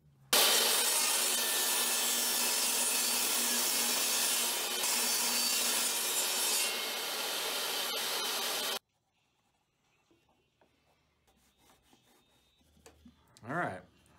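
A power saw rips wood lengthwise while making hand planes, running loud and steady for about eight seconds before it cuts off, with faint shop noises and a brief squeak afterward.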